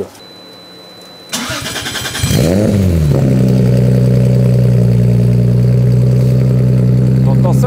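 A 500-horsepower Toyota Chaser drift car with a 1JZ engine, no bumper and a new exhaust cranks, catches and settles into a loud, rumbling idle up close, with brief speech at the start.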